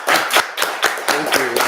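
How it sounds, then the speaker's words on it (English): A few loud, close claps at a town council meeting, about half a dozen uneven smacks in quick succession, with a voice briefly under them near the end. "Let's give her a applause."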